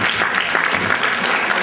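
An audience at an HR summit applauds in a dense, steady burst of clapping that stays even and fills the whole stretch.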